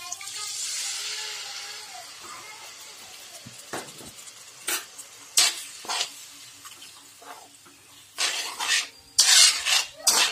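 Spices tipped into ginger, tomato and green chilli frying in oil for a rohu fish curry raise a loud sizzle that slowly fades, followed by bursts of stirring, scraping and metal clinks against the pan.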